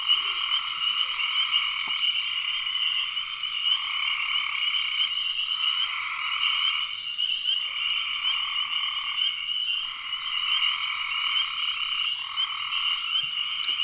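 Multi-species frog chorus of spring peepers and gray tree frogs: dense, continuous overlapping peeps and trills, loud and unbroken for the whole stretch, with no voices.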